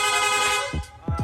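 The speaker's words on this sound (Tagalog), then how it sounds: "Long press lang po natin yung horn switch, yung busina natin, magsusunod-sunod na." A rapid horn fitted to a Yamaha Sniper 155 motorcycle blares in a continuous honk, then breaks into quick repeated short toots near the end, all loud and close.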